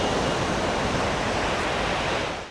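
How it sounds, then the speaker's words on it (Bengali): Tide-driven waves on Chilka Lake make a broad, steady rushing wash close by that holds even and then fades out at the end. "ঢেউ বাড়ছে দেখুন"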